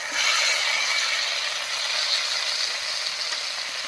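Ginger-garlic paste, cumin, coriander paste and chopped tomato fry in hot oil in a pan, giving a steady, close, even hiss of sizzling with no talk.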